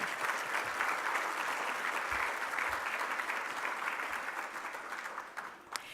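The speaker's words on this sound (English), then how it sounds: "let's give a round of applause to all the VIPs who are with us tonight" Sustained applause from a crowd of guests at an award and scholarship fundraising dinner, steady and fairly loud throughout, then tapering near the end.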